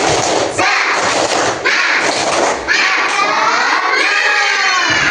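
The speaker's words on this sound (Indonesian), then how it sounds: "Tepuk semangat." Children in an Indonesian classroom perform the 'tepuk semangat' clapping routine, loud, rhythmic claps and thumps with young voices shouting and chanting along throughout.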